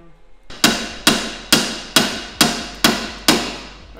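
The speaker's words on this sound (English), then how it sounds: "You get to whack with the hammer" Seven sharp, loud metal hammer blows land at an even rhythm on a car suspension part during an Air Lift Performance 3H air suspension install on a Dodge Charger, each strike ringing briefly, with no talking.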